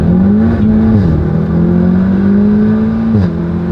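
Cupra engine with a custom-tuned DSG gearbox revving up through its full range, loud and close, with a rising and falling engine note and quick shift dips, no talk.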